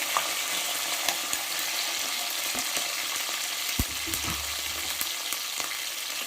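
Curry leaves, bay leaf and onion sauté in hot oil for a chicken biryani, a steady close sizzle broken by sharp clicks and scrapes of a spoon stirring in the pan.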